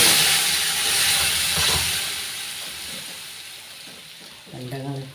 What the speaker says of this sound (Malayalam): കടുക് പറ്റൽമുളക് കറിവേപ്പ് ഇടുക